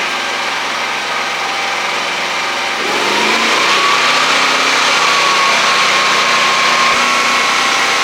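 A generator engine for welding runs steadily, then revs up to a higher, louder drone that holds on with a rising whine; close and continuous, with no talk.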